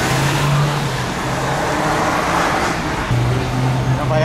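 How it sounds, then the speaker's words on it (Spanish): Heavy car traffic on a Miami road gives a continuous loud rumble of engines and tires, with vehicles droning by close at hand. "Sí, tío, mucho coche."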